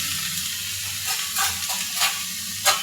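Bitter gourd (karela) slices fry in a pan, a steady close sizzle and hiss broken by a few brief scraping stirs, with no voices.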